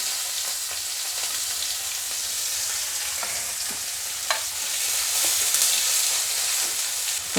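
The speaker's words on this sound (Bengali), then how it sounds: "পেঁয়াজটা লঙ্কাটা আমার ভালোভাবে ভাজা হয়ে গেছে" Onion, dried and green chilies and panch phoron fry in oil with a continuous close sizzle, occasional stirring scrapes and ticks throughout, no talking.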